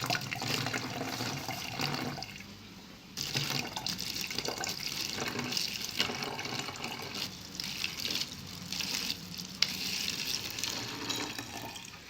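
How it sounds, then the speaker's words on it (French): Vinegar poured into a water bottle for a baking soda experiment, a steady liquid pour and splash running for about twelve seconds with a brief dip near the two-second mark, fairly close and with no talk. "On va verser le vinaigre dans la bouteille d'eau."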